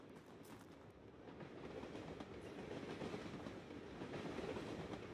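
A train rolls past in the video game Drug Dealer Simulator with a steady, continuous rumble and rail clatter. It sounds fairly close, and no one speaks.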